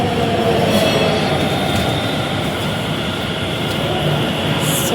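A Delhi Metro train at Chhatarpur rumbles steadily past, with a constant roar of wheels on rails and faint high squeals, loud and close.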